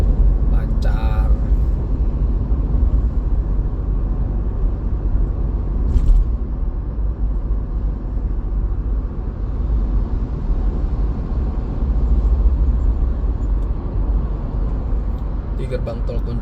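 A car cruising along the Alam Sutra toll road, its steady engine and road rumble filling the cabin continuously and loudly, with a couple of brief clicks near the start and middle.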